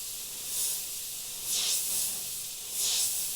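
Short hissing bursts of a paint airbrush laying down transparent black over freehand fire artwork, three soft spurts of airy spray with quiet gaps between them, close and fairly faint.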